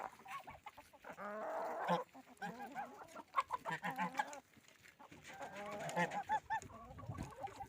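Chickens cluck and squawk nearby in overlapping bursts, a busy farmyard chorus of fowl calling irregularly with brief quieter gaps, with ducks nearby.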